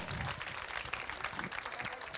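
Audience applause at a tech conference demonstration stage in Hamburg, a dense steady wash of clapping across the whole stretch with a faint murmur of voices underneath.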